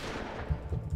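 Gunfire from a weapon in the Minecraft Cops and Crims mini-game, three quick low thuds in a rapid burst over a dull background hum.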